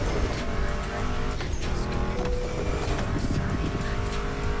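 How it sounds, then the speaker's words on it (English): Loud, dense roar of racing car engines in Motorfest, Mustangs and Porsches at full throttle, continuous and close with occasional tire squeal, no talking. "Meshes well with the sound of the engines"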